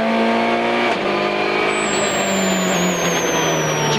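A WRC rally car at full speed on a stage of the 2011 Rally of Spain, its engine roaring loud and close with shifting pitch as it accelerates and changes gear, a high whine sweeping down near the end.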